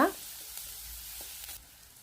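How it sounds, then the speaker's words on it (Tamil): Onions and curry leaves sautéing in a pan give a steady, faint sizzle with a couple of soft stirring scrapes, heard alone without talk. "இது எல்லாத்தையும் லைட்டாக வதக்குங்க"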